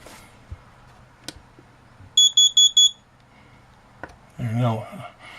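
A Rockwood Minilite 2104s carbon monoxide alarm gives four quick, shrill, evenly spaced beeps, loud and close, between scattered knocks and a brief bit of talk.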